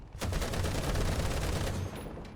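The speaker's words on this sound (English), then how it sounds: "I'm spewing bullets on board" Gunfire from the video game The Tigris, a rapid, continuous machine-gun burst of evenly spaced shots over a low rumble, loud and steady for about two seconds before stopping.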